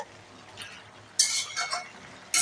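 Ash gourd with ginger, garlic and onion stirred in a pan, giving a few short scraping, sizzling bursts separated by quiet pauses, close by.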